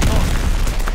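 A grenade explodes in a video game, a dense, loud boom with rumbling low-end debris filling the whole second, and a voice faintly present underneath.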